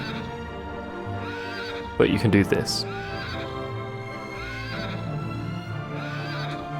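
A horse in Dragon Quest VIII whinnies in a short, loud burst, with clip-clop hoofbeats and game background sound around it. A voice speaks briefly nearby.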